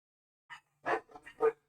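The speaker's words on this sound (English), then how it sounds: "Why are they barking?" Dogs bark in short yips, four or five quick bursts spread over a second, moderately loud against otherwise quiet surroundings.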